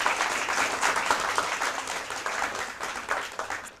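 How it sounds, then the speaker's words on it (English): Applause from an audience at a math championship for a school team, dense and steady clapping filling the room for a few seconds with no talking over it. "A round of applause for SDA."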